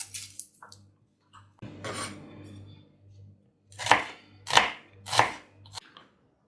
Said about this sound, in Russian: Нам понадобится луковица. Очистим ее и мелко нарежем.